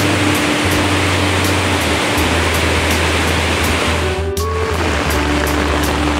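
Loud, continuous rushing and sloshing fills the scene as someone wades through deep, waist-high street floodwater during Typhoon Carina, with a low steady hum underneath and a brief dip partway through.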